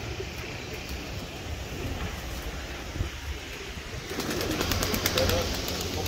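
Pigeons coo softly in a yard where birds are being fed and caught, low murmuring calls under steady background noise that grows busier toward the end.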